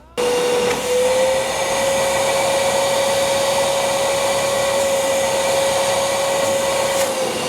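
A STARK VC201 30 HEPA construction vacuum cleaner switches on and runs alone, a loud, steady airy roar carrying a constant motor whine that holds for several seconds.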